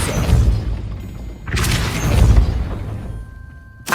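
Heavy booming impacts of the Depulso spell in Hogwarts Legacy, two loud blasts with rumbling tails, a third hit cutting in at the end, no talk.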